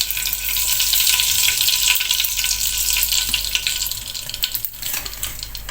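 Telor dadar omelette frying in a small amount of oil, a loud, dense crackling sizzle close up that holds steady with a few sharper pops toward the end, no talking.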